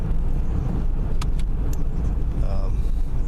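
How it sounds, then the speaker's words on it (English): A 1984 Pontiac 6000 with a diesel-like engine running during a night drive, heard as a steady loud low rumble from inside the car, with a few brief light clicks and rattles on top and no talk. "this is a very diesel-like engine. Sounds like a diesel."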